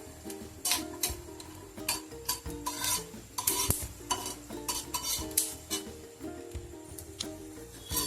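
Peanuts fry in a pan and are stirred continuously. A busy stream of close scraping, ticking and rattling runs under a light sizzle throughout.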